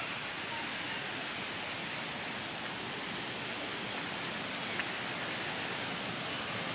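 Sarika waterfall in Nakhon Nayok roars as a steady, broad rush of falling water, loud and unbroken throughout with no voices.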